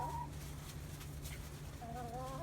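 Salmon Faverolle chickens cluck softly in a coop with heated waterers, a few brief low calls and short warbling notes over a steady background hum, faint and with no talking.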